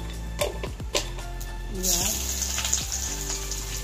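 Black cumin seeds sizzle in hot mustard oil in a karahi over a gas flame, a steady crackling hiss that grows louder partway through, with a few soft clinks.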